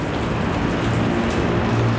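Rain beginning to fall on a Bangkok street, a steady broadband hiss of drops that holds evenly throughout with no voices over it.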